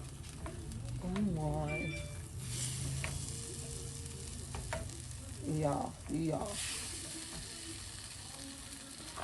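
A spoon stirs paella in a pan, with a soft sizzle and scraping under the stirring as someone speaks a few exclamations over it.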